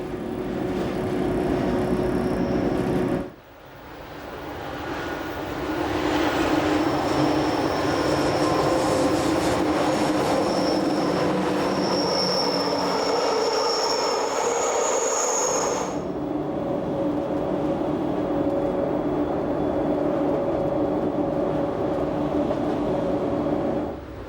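The Glacier Express train between Disentis and St. Moritz climbs through the short 535-metre Zuondra spiral tunnel toward Preda, a loud continuous rumble of wheels on rails with a high metallic squeal and shifting tone as it enters and runs on.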